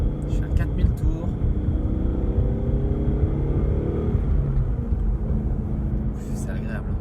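A Ford Mustang GT V8 holds a loud, steady rev around 4000 rpm on an open road, a dense low engine roar with road and wind noise and little change throughout.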